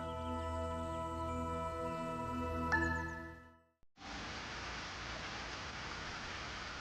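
Rain falls steadily on a wet day at Qingdao Airport, a constant even hiss that comes in abruptly after a stretch of music and carries on alone.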